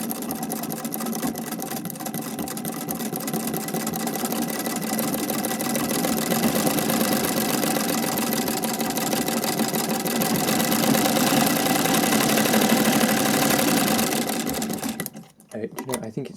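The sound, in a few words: vintage Singer treadle sewing machine stitching with Swiss zig zag attachment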